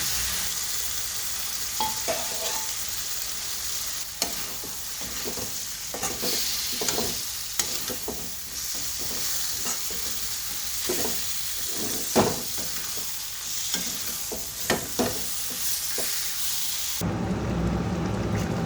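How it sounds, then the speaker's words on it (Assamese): Boiled kidney beans (rajma) frying with spices in a pan, a steady broadband sizzle broken by repeated scraping stirs of the spoon, close and fairly loud, with no one talking. "এইখিনি মছলাখিনিৰ লগত ভাজি দিম।"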